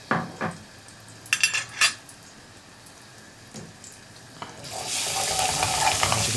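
Ginger and garlic go into hot oil in a pan, with a few clinks and scrapes of a utensil before a broad, steady sizzle swells and keeps going loudly to the end.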